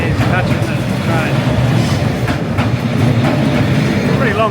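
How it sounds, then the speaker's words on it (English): A long train keeps rolling along a narrow Hanoi street, its carriages clacking rhythmically over rail joints with brief wheel squeals. The sound stays continuous and close, with a busy crowd around it. "Pretty long train."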